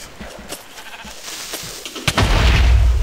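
Sheep bleats in a Minecraft game with the EvilCraft mod, heard as loud, short game-animal cries over a busy background of in-game effects, with a heavy rumbling burst near the end.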